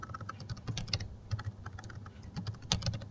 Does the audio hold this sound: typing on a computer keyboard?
yes